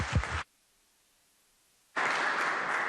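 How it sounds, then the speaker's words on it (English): Applause in the West Virginia Senate chamber, a burst of dense clapping that cuts off, a stretch of near silence, then steady broad clapping returning loud and sustained. "I would ask the Senate if they would give her a rousing round of applause"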